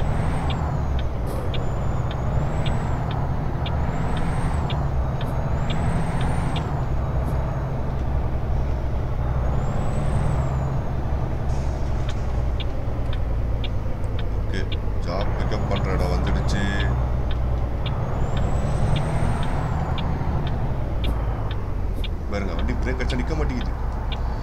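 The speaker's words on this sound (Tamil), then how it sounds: "பிரேக் அடிச்சுட்டா வண்டி சுத்தமாக நிற்க மாட்டேங்குது" A heavy truck in American Truck Simulator on an Oregon route from Burns to Pendleton, with a steady low engine drone and repeated hissing air-brake releases, while someone talks throughout.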